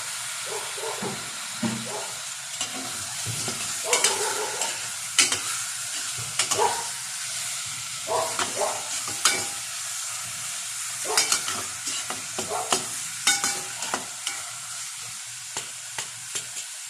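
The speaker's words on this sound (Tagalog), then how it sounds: "Lagay na rin natin yung ating chicken at ang hiwa." Chicken pieces stir-fried with lemongrass in a pan for tinola, a steady sizzle broken by frequent scraping and clattering stirs, close and fairly loud, no talk.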